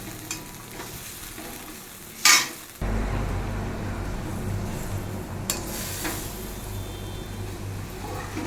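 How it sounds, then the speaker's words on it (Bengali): Coconut milk is stirred into spices in a cooking pan with a ladle scraping and clinking against metal, then a steady close sizzle and bubbling simmer continues under the slow stirring. "এবার আমি এভাবেই আস্তে আস্তে নাড়বো, নাড়তে নাড়তে যতক্ষণ ফুটবে ততক্ষণ অপেক্ষা করব"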